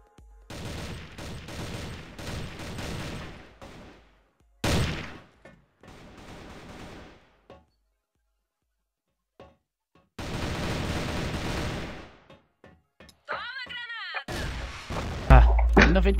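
Bursts of rapid gunfire from a CrossFire first-person shooter come in dense volleys separated by silent gaps, loud and close, with some short sharp shots and a brief swooping effect near the end.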